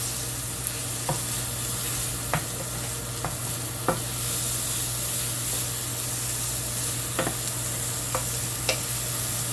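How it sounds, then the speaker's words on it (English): Steady loud sizzling from a hot pan with occasional light scraping clicks as sliced leftover London broil beef for Philly cheesesteaks is stirred and tossed. "Make sure you stir in between or mix."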